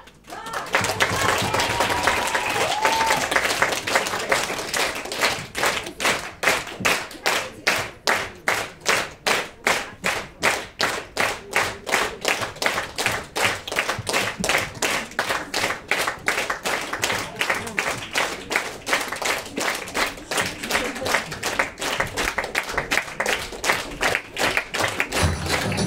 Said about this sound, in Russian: Мы можем под аплодисменты, да?